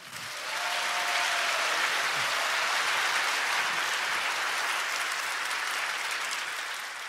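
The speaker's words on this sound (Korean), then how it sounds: "박수 부탁드립니다." A studio audience applauds at the close of a Korean radio/podcast talk segment, a steady dense wash of clapping that swells in quickly and holds evenly for several seconds.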